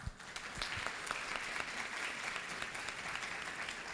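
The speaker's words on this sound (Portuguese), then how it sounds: "pedir uma salva de palmas para a professora Josiane" Applause for a speaker at an academic panel on Brazil's high school education reform, an even, continuous patter of clapping from an audience, moderately distant and quiet.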